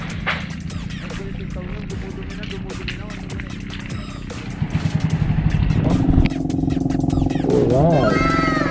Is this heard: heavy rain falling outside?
no